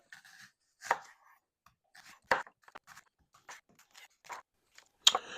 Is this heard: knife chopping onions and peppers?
yes